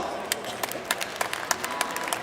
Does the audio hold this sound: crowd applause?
yes